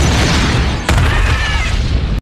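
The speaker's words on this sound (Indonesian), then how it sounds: "terjadi lagi sebuah ledakan di dalam bis di kota London" A sudden heavy blast of an explosion inside a bus in London cuts through steady loud rumbling noise, followed by a wash of broadband roar that continues until the sound abruptly stops.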